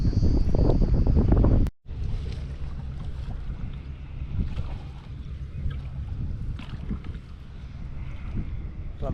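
A boat moving along river water at Bhairavakona, steady low engine-like rumble and wash with wind buffeting the microphone, interrupted by a brief cut early on, no speech.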